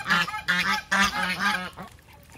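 Geese honking at a highland campsite: several loud, nasal calls come in quick repeated bursts close by, then trail off near the end, with no talking.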